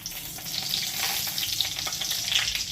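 Garam masala, dried chilli and cumin tempering sizzling in hot oil for a potato curry, a steady bright crackling hiss close up, continuous without talk.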